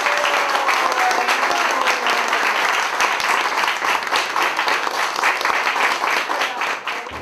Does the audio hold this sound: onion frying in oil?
no